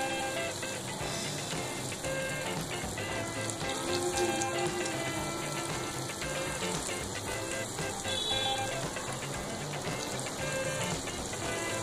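Urad dal vadas for dahi bhalla deep-frying in oil over medium heat, a dense steady crackling sizzle running continuously throughout at close range.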